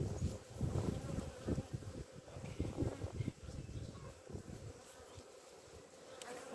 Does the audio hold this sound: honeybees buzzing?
yes